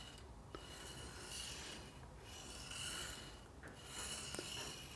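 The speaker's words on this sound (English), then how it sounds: "On the point, you can hear the knife gripping on the stone as it goes." A hunting knife is drawn repeatedly across a sharpening stone, soft rasping strokes swelling and fading in a slow rhythm, quiet and close with no talk.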